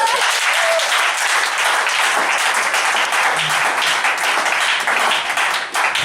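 A church congregation claps and applauds in acclamation at a prophetic deliverance service, a dense, loud, continuous roar of hands that holds steady for several seconds.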